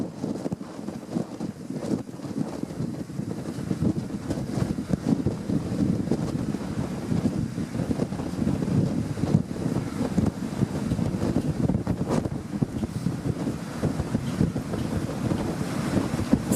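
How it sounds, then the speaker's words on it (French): Storm waves crash continuously on a flooded beach while strong wind buffets the microphone, a dense roaring wash with no voices. "Regardez ces vagues qui arrivent."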